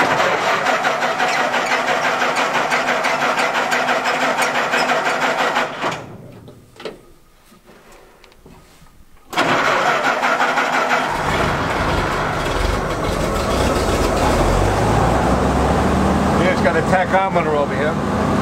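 A military half-track's engine is started with a switch and button. It cranks and fires, goes briefly quiet, then settles into a loud, steady mid-pitched running rumble close by, with someone talking over it.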